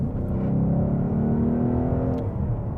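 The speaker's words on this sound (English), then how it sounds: "if you do want to hear more V8 sounds in future like this" Ford Mustang GT V8 engine revving loudly up close, a steady deep rumble with rising harmonics that climb and hold before the pitch eases off near the end, with no talk over it.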